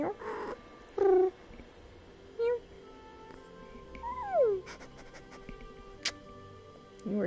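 A pet house cat gives a few short meows and a rising, drawn-out call over a quiet room, with someone speaking softly to it between the cries.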